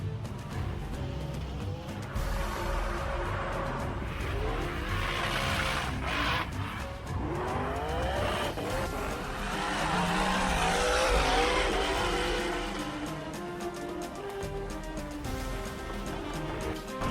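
A racing motorcycle engine screams at high revs, rising and falling with gear changes as the bike passes nearby, loud and continuous with no talking.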